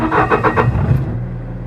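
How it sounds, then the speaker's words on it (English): A Bobcat T750 skid steer engine cranks with rapid pulsing chugs, then catches and settles into a steady low idle, loud and close. "Alright, so let's start this up"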